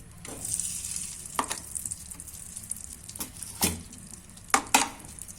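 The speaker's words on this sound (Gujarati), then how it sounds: "એક પેન ગરમ મૂકી દીધી છે તેમાં આપણે એક ચમચો ઘી નાખીશું દેશી" Desi ghee sizzles in a hot pan, a soft steady fry hiss broken by a few sharp crackles and spoon scrapes, close and fairly quiet with no talking.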